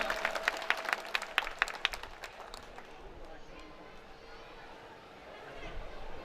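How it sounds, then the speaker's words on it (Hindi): Applause from an audience at a college gathering in Saharsa, a burst of crisp clapping at the start that thins out into a murmuring crowd and background hubbub, moderately distant. "आपकी जोरदार तालियां"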